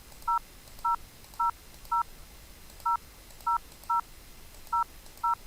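Touch-tone keypad beeps on a 3CX phone system dial a number: ten short, clear dual tones in quick, slightly uneven succession over a quiet background.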